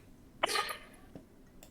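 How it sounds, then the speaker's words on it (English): A dog gives one sharp, close bark with a short, airy tail, followed by a fainter second yelp, against a quiet indoor background. "That's what her barking sounds like."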